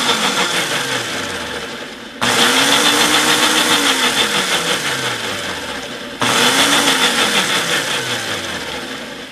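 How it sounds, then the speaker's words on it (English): A Ninja blender whirs loudly while blending coconut milk coffee creamer, in three bursts. The motor restarts abruptly twice and each run winds down slightly in pitch. "I'm just going to blend this all together"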